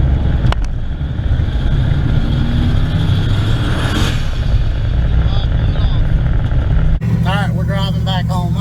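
A turbocharged Gen 1 383 small-block 1980 Trans Am drives along with a loud, steady engine drone and road roar throughout. It cuts out near the end as a voice begins talking.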